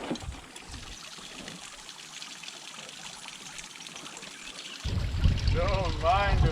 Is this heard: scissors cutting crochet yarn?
no